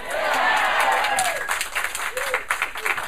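An audience claps in a live comedy setting, a dense burst of applause that swells loudly at first and then thins into scattered claps, with voices in the crowd mixed in.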